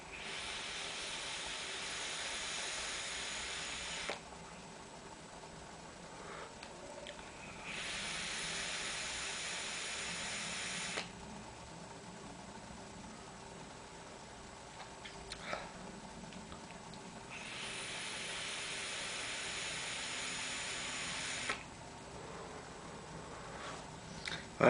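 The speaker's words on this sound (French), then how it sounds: "Donc je vais faire exprès d'aspirer, parce que moi ça m'arrive des fois d'aspirer fort." Strong, deliberate inhales through an e-cigarette drip tip produce a soft, airy vapour hiss: three or four long draws of several seconds each, steady and close, separated by quieter pauses.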